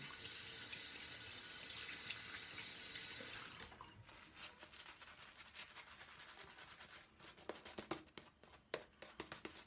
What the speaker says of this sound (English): Let me wet my face up real good.